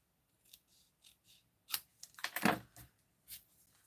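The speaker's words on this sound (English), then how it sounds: "let's snip the top off too" Scissors snip through paper during a stamping card craft, with a series of short, quiet cuts and crisp rustles close by, ending in a faster cluster of snips.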